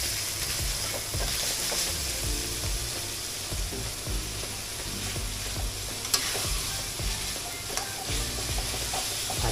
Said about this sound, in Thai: นี่ก็จะทำการใส่เนื้อหมูลงไปครับ เริ่มผัดให้เข้ากันนะ